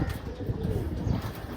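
Pigeons coo softly and continuously at a pigeon sale in Ichapur, West Bengal, with low murmuring calls overlapping throughout and a faint hint of voices in the background.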